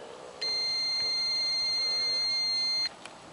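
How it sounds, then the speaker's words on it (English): A digital multimeter on its continuity setting gives one sustained electronic beep lasting about two and a half seconds as its probes touch the contacts of a good car blade fuse, with quiet room background before and after. "the digital multimeter continuity setting is working, which will make a beep sound"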